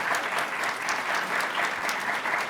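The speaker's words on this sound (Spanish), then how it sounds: "Quiero dar un gran aplauso a Francisco" A seated audience applauding a speaker at a Spanish-language talk, dense steady clapping that stays even and sustained for the whole stretch, with no cheering.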